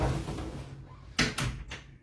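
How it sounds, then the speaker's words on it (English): A door swinging shut indoors, giving a couple of close, sharp thuds and knocks over a low background hum, with no talking. "close your door"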